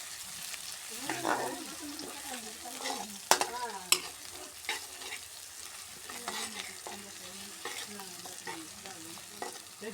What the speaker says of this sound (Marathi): हे बघा कांद्याच्या नंतर आता लसूण टाकलेलं आहे